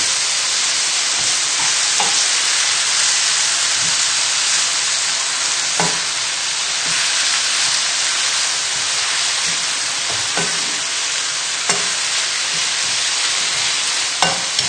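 Minced beef sizzling and frying in a pan for a shepherd's pie, a constant bright hiss with occasional scrapes and knocks as the mince is stirred and turned.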